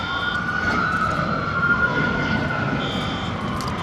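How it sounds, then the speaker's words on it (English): Emergency vehicle sirens wail at a distance, echoing near an airport on a rainy day, a steady tonal siren over constant rain and ambient hiss, with no voices. "I'm hearing more sirens"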